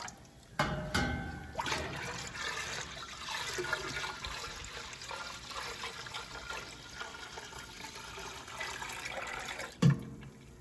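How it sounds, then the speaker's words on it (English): Strained maple sap pours from a container into a large pot on a kitchen stove. It makes a continuous splashing, gurgling stream for about ten seconds, ending with a brief clunk. "we're pouring in what we've strained into the pot"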